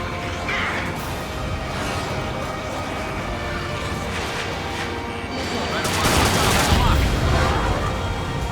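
Missile impacts and gunfire in the combat flight game Ace Combat 7, a dense, continuous barrage of blasts and shots that swells louder near the end, with a voice faintly under the din.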